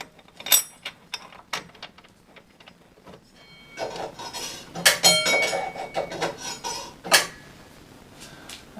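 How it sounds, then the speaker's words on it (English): A bolt and washer being handled during an assembly job, giving scattered close metallic clicks, rubbing and small clinks at irregular intervals, fairly quiet with no talking. "Now I'm going to grab our bolt and washer."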